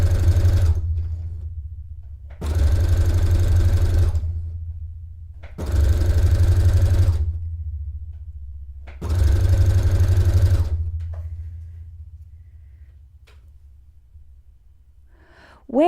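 A sewing machine stitches fabric and trim together for a Kirtle-inspired dress, running in three separate steady bursts of about two seconds each, loud and close, with quiet pauses between them and no talk.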